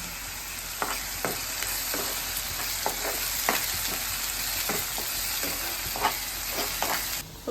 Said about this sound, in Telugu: ఈ 3 ఆనియన్ పేస్టు, టమాటా పేస్టు, అల్లం వెల్లుల్లి జీలకర్ర ధనియాల పేస్ట్ బాగా ఫ్రై అయినాయి